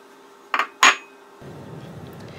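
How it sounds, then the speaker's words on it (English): Frozen plums dropped onto a frangipane tart: two sharp clinking hits close together, then a faint rustling, no voices. "now I'm just going to sprinkle over my frozen fruit"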